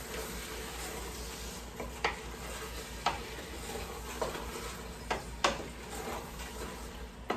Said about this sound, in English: Go ahead and give that a stir.